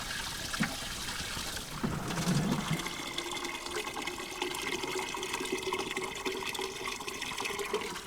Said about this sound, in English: Equipped with our trusty watering can, we patiently filled our tank.